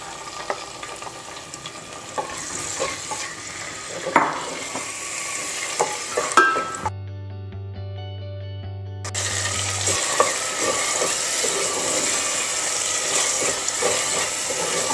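Tomatoes hitting a pan of golden fried onions bring a steady close sizzle with spoon stirring and scraping, broken by a brief steady hum midway before the frying resumes.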